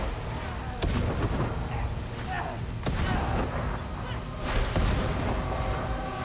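Grenades explode in the video game Darktide, a series of loud booming blasts and thuds layered over busy in-game combat noise, with several heavy impacts spaced across the stretch.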